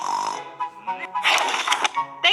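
Grandpa snores in a children's story, loud rasping snorts in a few uneven bursts, mixed with voiced sounds that may be a person imitating the snore.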